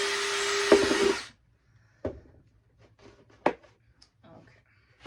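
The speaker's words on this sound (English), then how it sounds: "I'm going to drill my guide hole for cutting" A power drill boring a guide hole into a plastic jug, a loud steady whirring burst of about a second, followed by quieter handling clicks and light knocks.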